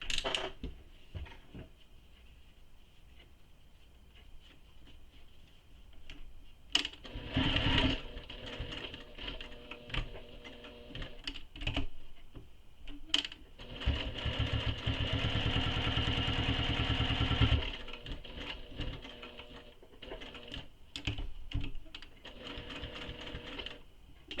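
A sewing machine top stitching zipper panels on a fabric bag, running in several short bursts with a longer steady run in the middle, close and fairly quiet, with small handling clicks between.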